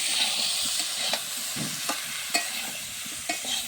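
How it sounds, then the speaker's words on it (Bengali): Spices with turmeric powder fry and sizzle in a pan while being stirred, a steady close hiss broken by soft scraping strokes, with no talking. "এবার কিন্তু আমি এগুলো একটু ভেজে নিচ্ছি।"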